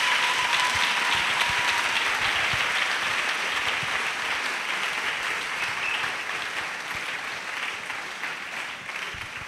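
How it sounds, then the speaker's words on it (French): A church congregation applauds in dense, sustained clapping that fills the room, loud at first and tapering slightly toward the end. "Acclamation à Jésus-Christ."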